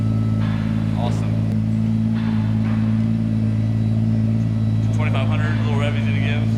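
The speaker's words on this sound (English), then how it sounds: "That's how a Stagea 260Rs should sound right there." A Nissan Stagea 260RS engine idles with a loud, steady low drone and rises slightly in a brief rev, heard up close while people talk over it.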